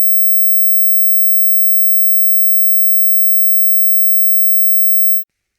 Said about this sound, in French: Sa fréquence est supérieure à 8000 Hz. Et elle n'est plus audible par les plus de 25 ans.